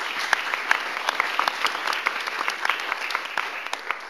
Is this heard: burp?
no